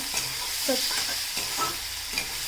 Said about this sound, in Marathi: कांदा पण आपल्याला चांगला शिजवून घ्यायचा पूर्णपणे लालसर होईपर्यंत